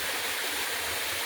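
Water pouring down from a height in an outdoor spot, a dense continuous hiss and rush, close and steady throughout the short moment.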